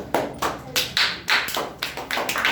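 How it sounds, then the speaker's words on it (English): Several separate bursts of clapping at a storytelling competition, roughly two or three per second, like a small group giving brief, uneven applause nearby. "Clap for David."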